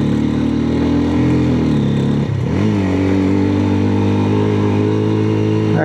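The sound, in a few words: motorcycle engine revving to 7000 RPM in first gear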